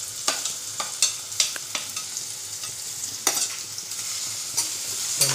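Onion, garlic and potato frying in a pan for tomato bhaji, with repeated sharp scrapes and taps of a spoon stirring over a constant soft sizzle, close by and with no voices.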